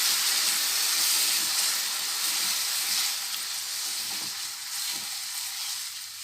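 Milk freshly poured into a hot pan for milk coconut barfi, frying on high heat with a steady, close, loud broadband sizzle and hiss that eases slightly over time, with faint stirring scrapes and no voices.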